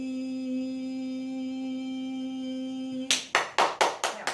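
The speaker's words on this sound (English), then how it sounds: "they're using clapping as well to disperse it" A steady humming tone plays, then cuts off as five or six sharp hand claps ring out in a quick, even rhythm.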